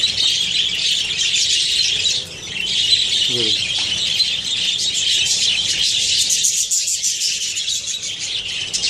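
Pet budgies eating corn kernels, a dense flock chattering and chirping nonstop in a bright, busy wall of bird calls, close and loud.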